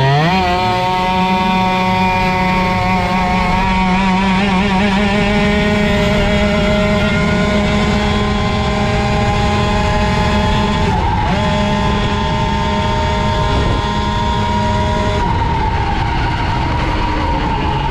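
A boosted Airsal 70cc moped engine revving hard, its loud, buzzy two-stroke note climbing and holding in long sweeping pitch rises, close up, with a brief dip midway before pulling again.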